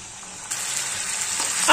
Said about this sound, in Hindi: अब हम इसमें डाल देंगे गुड़ और डाल देंगे 2 चम्मच के करीब पानी।